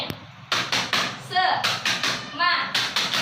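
A teacher's rhythmic spirit clap in a classroom lesson, sharp hand claps in short bursts mixed with her voice chanting, close and fairly loud.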